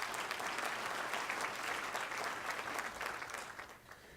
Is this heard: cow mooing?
no